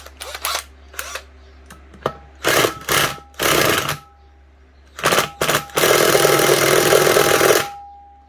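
A power tool works an Allen key bolt out of a scrapped air compressor motor in close, loud bursts of whirring that stop and restart, ending in one longer sustained run.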